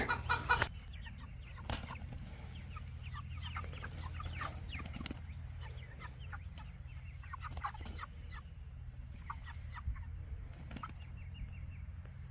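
A hen clucks in soft, scattered bursts on a homestead with goats and chickens, with a steady low hum beneath and a couple of faint knocks, all fairly quiet and with no voices.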